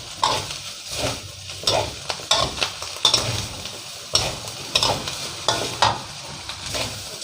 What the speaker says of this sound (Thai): ใส่ลงไปผัดด้วยกันให้หอม